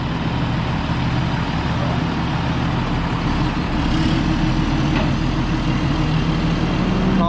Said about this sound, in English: Mr. Schaefer's truck wasn't big enough to pull out this big concrete truck